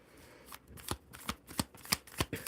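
A deck of tarot cards is shuffled by hand in a quiet room, giving a close run of crisp riffling slaps and flicks in an uneven, quickening rhythm.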